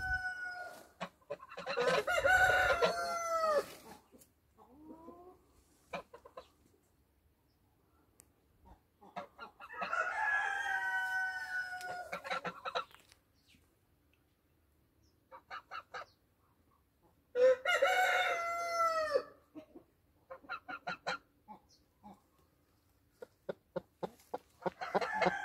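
A Brahma hen settling onto her eggs in a brooding crate lets out low, throaty clucks and gurgling calls in a few separate bouts, close by, with quiet stretches and faint small taps between them.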